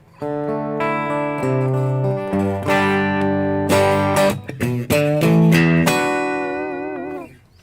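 Electric guitar chords and notes played through a tube amp, with warm, gritty natural distortion and sustained ringing tones, loud and close.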